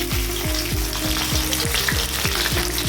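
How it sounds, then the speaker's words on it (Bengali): Bhola fish frying in oil until crisp, a loud continuous sizzle close by, with rhythmic scraping of a spatula turning the pieces roughly every third of a second, no voices. "দেখুন এইভাবে আমি ভেজে দিলাম মাছটা একদম কড়া করে"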